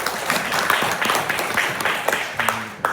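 An indoor audience at a supervision training session breaks into steady applause, many hands clapping together loudly and evenly throughout.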